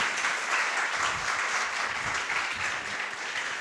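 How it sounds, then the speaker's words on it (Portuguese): A church congregation claps together in a sustained round of applause that stays dense and even throughout, with no talk over it. "Vamos dar uma salva de palmas para Jesus?"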